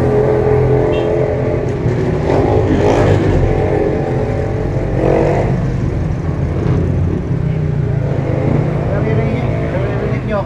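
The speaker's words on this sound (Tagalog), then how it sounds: "ang dami sasakyan dumadaan" Many cars pass along a busy road outdoors, a steady engine drone with swelling whooshes as vehicles go by, while a voice talks over the traffic.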